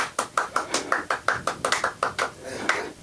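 Sparse clapping from a small comedy show audience, a dozen or so distinct close claps in an uneven rhythm with no crowd roar.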